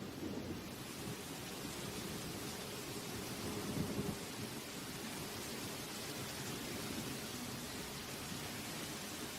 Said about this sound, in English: The rain starts pouring down, like a harsh welcome to the real world.